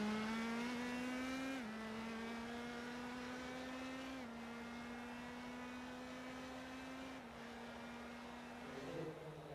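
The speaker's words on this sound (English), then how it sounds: "Cars are out on the racetrack for their qualification laps" Indy Pro 2000 race cars in iRacing on Phoenix Raceway, a single engine droning at steady high revs with brief drops at gear shifts, moderately faint and alone.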